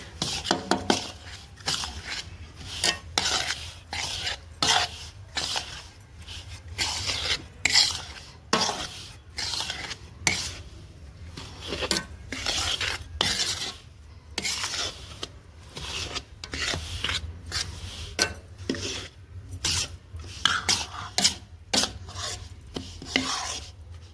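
A ladle stirs a khoya and sugar mixture in a wok, producing repeated scraping and rubbing strokes in an irregular rhythm, close and fairly loud, with no voices.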